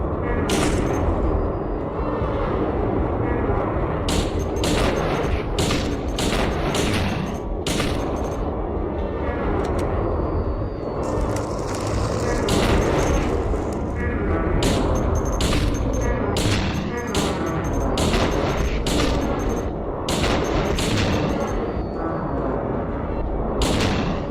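Rapid gunfire from the Silent Hill 2 video game with an over-the-shoulder mod, loud repeated shots in dense bursts and clusters, nearly continuous with brief gaps.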